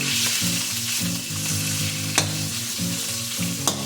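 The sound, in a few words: ground meat sautéing in hot oil in a wok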